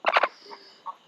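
A chicken gives a quick burst of three loud, close clucks, followed by softer scattered clucks and chirps in a quiet indoor setting at night.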